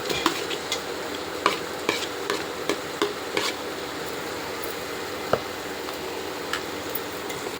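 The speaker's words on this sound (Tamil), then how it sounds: "இந்த சின்ன வெங்காயம் நச்சு வச்சுருக்கோம் பார்த்தீங்களா இதுவும் அது கூட போட்டுருவோம்" Chopped small shallots frying with ginger garlic paste in a pot for biryani, a steady close sizzle with intermittent stirring clicks and scrapes from a spoon throughout.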